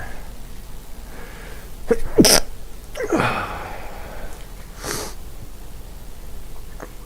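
A sharp, loud sneeze bursts out, followed by a couple of quick sniffs, all close to the microphone in a quiet room.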